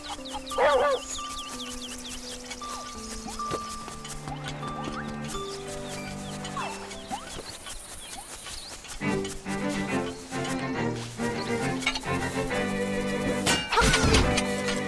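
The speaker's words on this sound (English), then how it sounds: "I didn't mean to hit the chicken." Chicken clucking from the Game Boy-era game The Legend of Zelda: Link's Awakening, short chirpy game-sound bursts over a busy chiptune-style music bed, with a louder hit near the end.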